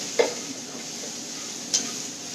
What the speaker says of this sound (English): Some ginger in this, and now we have to saute it.